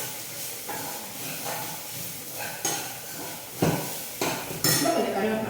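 Grated coconut sautéing in a pan for sambar, a soft steady sizzle with intermittent scrapes and clinks of a spoon against the pan, growing busier toward the end.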